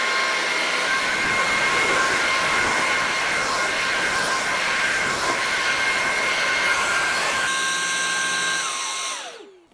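A Levoit cordless vacuum cleaner runs with a steady, high-pitched whine and airy rush close by, then switches off and winds down at the end.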